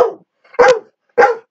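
A dog gives three sharp, close barks, each a short burst, spaced about half a second apart, with silence between them.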